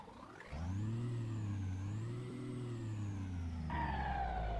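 A heavy truck engine, a modded Montro 111s MADMAX rig with a 730-horsepower engine in Euro Truck Simulator 2, starts up and settles into a loud, steady, deep idle with a rising tone toward the end, heard alone and up close.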